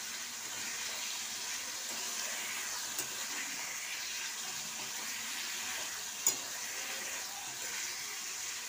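Rohu fish curry with pickle spices sautéed down in a pan gives off a steady, soft sizzling hiss throughout, with one brief faint scrape partway through.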